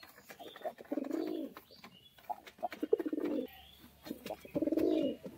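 Male pigeon in a loft cooing in three distinct rolling bursts, fairly close, with quiet gaps and light background noise between calls.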